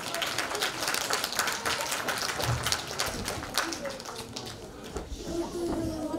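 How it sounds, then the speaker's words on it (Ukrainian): Audience applause rings out at a ceremonial Defender of Ukraine Day assembly in Teplodar, steady crowd clapping lasting several seconds before fading toward the end, with faint children's voices mixed in. "Бурхливі оплески!"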